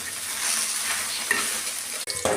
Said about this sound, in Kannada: ಬೆಂಡೆಕಾಯಿನ ಚೆನ್ನಾಗಿ ಹುರ್ಕೊತಾ ಇದ್ದೀನಿ